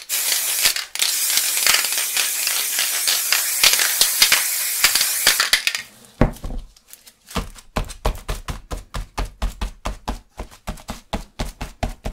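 A spray paint can hisses in long continuous bursts for several seconds, close up and loud, then gives way to a series of sharp, rhythmic tapping and knocking sounds.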